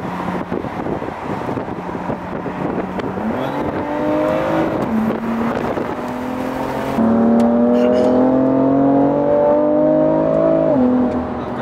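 A BMW M4 Competition engine revs in bursts from inside or near the car, pitch climbing and holding under wind noise, with occasional voices mixed in.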